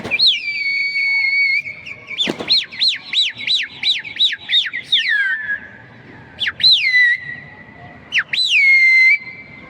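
Shrill whistles repeat in quick rising-and-falling bursts, loud and close, then give way to several long sliding whistle calls with brief gaps between.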